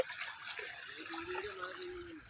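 Rainwater running steadily through a farm field after an all-night downpour, a faint continuous rushing wash heard from nearby, with a soft tonal whine drifting underneath.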